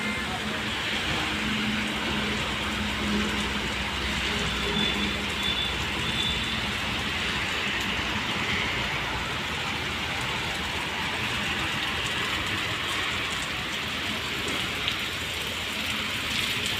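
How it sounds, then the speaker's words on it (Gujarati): Heavy rain pours down in Rajkot, a steady, even hiss of downpour that continues unbroken and moderately loud throughout. "રાજકોટમાં ભાઈ ધોધમાર વરસાદ હોય."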